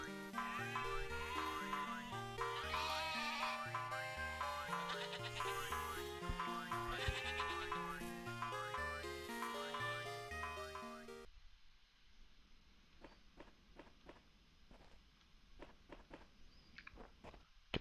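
Sheep in The Talos Principle video game bleat several times, short repeated cries standing out faintly after a stretch of loud, steady game music.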